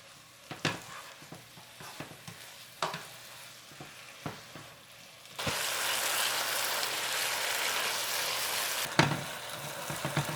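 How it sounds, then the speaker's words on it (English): Spinach and shiitake mushrooms with oyster sauce are stir-fried in a pan. Sparse scraping stirs at first give way to a loud, steady sizzle with more stirring clatter. "Stir everything all together."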